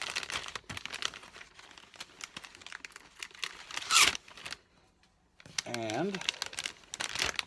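A baseball cap slides into a clear resealable plastic bag, giving close crinkling and rustling bursts of plastic between short pauses, with someone talking over parts of it.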